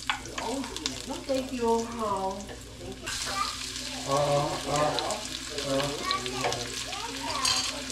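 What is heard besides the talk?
sautéing garlic in a pan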